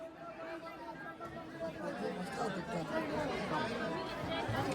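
Dense crowd chatter at Jejuri temple, many overlapping voices blending into a continuous babble throughout, close and steady.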